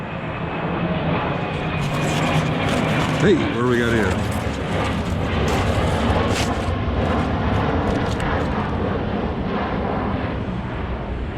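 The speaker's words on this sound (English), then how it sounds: "Airplane." A fixed-wing airplane drones overhead outdoors, a broad, steady roar under a man's nearby speech.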